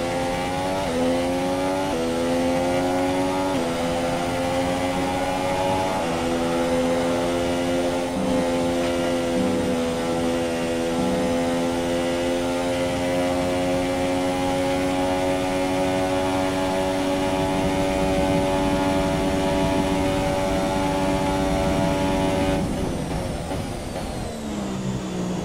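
Racing car engines scream in the F1 2017 video game, a sustained loud high-revving whine that climbs and shifts through the gears, with several cars close together and no talk.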